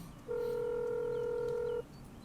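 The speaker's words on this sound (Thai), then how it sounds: "หยิบโทรศัพท์มา โทรหา แจ้งหนึ่งหนึ่งสองครับผม" A telephone keypad tone sounds while someone calls the emergency number 1112 after a roadside accident in which logs fell. One steady, fairly faint beep holds for about a second and a half against quiet background noise.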